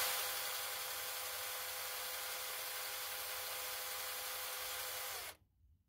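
A light-duty power drill whirs steadily for about five seconds at a constant speed while drilling holes to mount a trailer jack support on a swing-away cargo carrier, then cuts off abruptly, leaving near silence.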